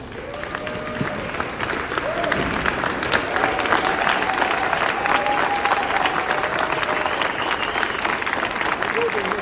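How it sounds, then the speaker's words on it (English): Sustained applause from a political convention audience fills the room steadily throughout, with some cheering voices and a few scattered tones mixed into the dense clapping. "give a round of applause, not for me, but to Let's Go Washington and Brian Haywood for doing this"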